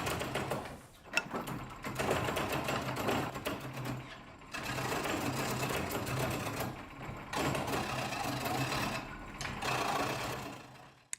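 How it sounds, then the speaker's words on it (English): A roughing gouge cuts into a spinning wooden leg barrel on a lathe, rounding the stock with a continuous loud rattling, chattering drone that dips briefly a few times. "use the roughing gouge to start to remove a lot of the material on the leg barrel and start bringing it down to actually round"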